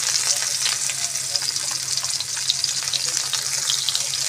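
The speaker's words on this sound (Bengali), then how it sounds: "তেলটা গরম হয়ে যেতে ওর মধ্যে আমি দিয়ে দিচ্ছি একটা তেজপাতা। আর দিয়ে দিচ্ছি ওর মধ্যে কেটে রাখা পেঁয়াজগুলো।" Chopped onions and a bay leaf frying in hot oil in a pan for a fish curry, a steady close-up sizzle with faint crackling throughout and a low hum beneath.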